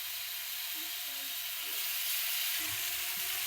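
Chickpeas stir-fried with salt and fresh coriander crackle in a hot pan, a steady close sizzle with occasional clinks of a stirring spoon and low rustling underneath.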